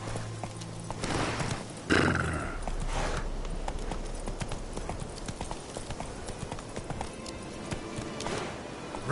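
Roach, the horse in The Witcher 3, gallops with a steady rapid clip-clop of hooves, loud and close, over a constant game background with a brief whinny-like burst near the start.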